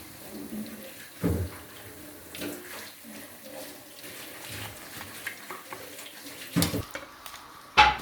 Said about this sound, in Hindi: इसको हम 1 टाइम फ्राई कर रहे हैं